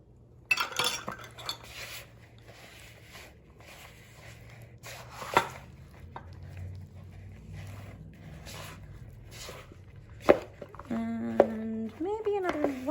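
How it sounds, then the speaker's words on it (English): A utensil scraping homemade pie filling against the side of a mixing bowl, with soft scrapes and occasional clinks of metal on the bowl while a person talks over the kitchen sounds. "I'm just kind of smearing it up against the side of the bowl."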